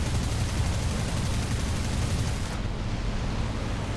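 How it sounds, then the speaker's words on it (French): Gunfire from enemy aircraft in a War Thunder air battle with Russian planes, a dense continuous roar of rapid shots over heavy engine drone that thins slightly near the end. "là il y a vraiment beaucoup de monde qui nous tire dessus"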